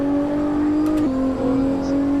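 A steady car engine drone in the racing video game Assetto Corsa holds at an even pitch, then dips and settles slightly lower, like idling or revving gently, loud and close.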